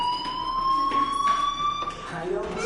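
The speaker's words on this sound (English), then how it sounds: "Hey, do you hear that fire alarm?" A fire alarm in the Life is Strange video game rings as one steady, piercing electronic tone with high overtones. It sounds continuously while a person talks over it.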